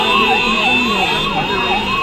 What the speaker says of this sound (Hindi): ये देखो ट्रैफिक की भीड़, एम्बुलेंस भी नहीं निकल पा रही है भाई